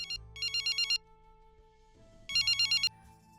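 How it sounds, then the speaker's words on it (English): A phone ringtone goes off in two bursts of rapid, pulsing electronic beeps separated by a quieter pause, loud and close, with no voices over it. "I think a phone is going off."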